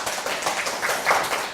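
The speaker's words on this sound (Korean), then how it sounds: "그 긴 세월의 수고로움에 다시 한번 박수를 보내주실까요?" Studio audience at a Korean talk show clapping in a continuous, fairly loud burst of applause, heard alone with no voices.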